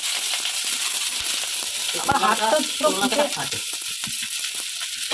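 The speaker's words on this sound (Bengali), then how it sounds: "এবার লাল লাল করে পেঁয়াজগুলো ভেজে নেব" Onion, garlic and dried red chili fry in hot oil in a pan, a steady close sizzle with a few clinks of stirring partway through, while a voice talks quietly over it.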